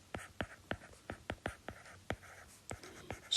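Pen strokes scratch and tap on paper while notes are jotted by hand during a data analysis math lesson, a dozen short distinct scrapes in an uneven rhythm, close and quiet with no talking.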